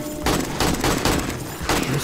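Rapid bursts of gunfire during a zombie blood moon in the video game 7 Days to Die, loud and close, with repeated volleys over about two seconds.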